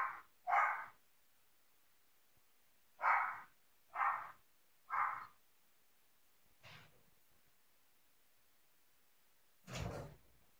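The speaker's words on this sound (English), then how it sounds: "Sorry if you can hear my dog barking." A dog barks at someone at the door, several loud single barks from a distance with pauses between them, then a final thump.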